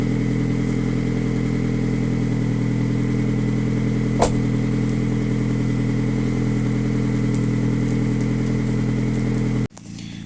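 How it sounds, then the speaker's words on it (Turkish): An Opel Astra engine idling after a cold start, a steady, loud, even hum with one brief sharp click midway, cutting out near the end. "Evet arkadaşlar Opel öne aldım. O da çalışsın biraz."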